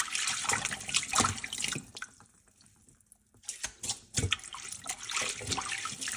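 Soybean sprouts are washed in water after soaking, with splashing, sloshing and dripping close by, broken by a quieter pause before the churning of water and sprouts resumes.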